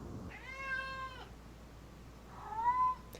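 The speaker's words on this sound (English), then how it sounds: "There's a very vocal cat that just entered my office." A cat indoors in an office gives two loud, drawn-out meows with a short pause between them, clear and close with no talking over them.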